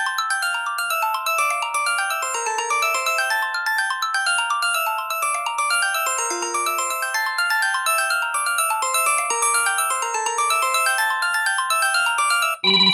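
A retro ringtone plays as a loud, continuous, fast-cycling electronic melody of bright chiming notes, alone and close, for about thirteen seconds.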